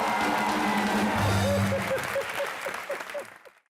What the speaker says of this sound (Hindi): एक बार जोरदार तालियां वीरू पाजी के लिए